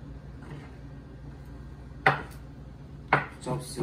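Cilantro chopped on a cutting board while making a mushroom and tofu taco gives two sharp knife strikes about a second apart, then a softer knock, over a quiet kitchen background.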